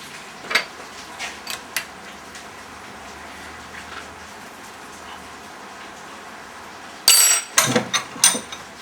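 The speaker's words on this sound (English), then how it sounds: "I only push and turn the hose as far as I can with hands. Then I go to the wrench." A hose fitting is tightened with a hardened chrome wrench, giving a few light metallic clicks and taps early on, then a louder cluster of sharp clinks and ratchet-like snaps near the end.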